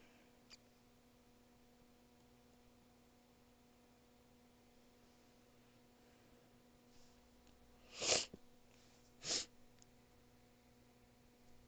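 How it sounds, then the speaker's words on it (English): Two short, sharp sneezes about a second apart stand out against a quiet, steady hum. "Okay, time to sneeze again."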